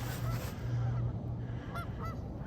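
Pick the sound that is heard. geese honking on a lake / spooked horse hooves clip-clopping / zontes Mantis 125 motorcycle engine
geese honking on a lake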